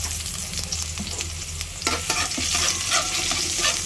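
Garlic sizzles and crackles steadily in a hot frying pan, with stirring scrapes and a louder burst of frying partway through, close and without talking.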